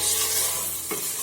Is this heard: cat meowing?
no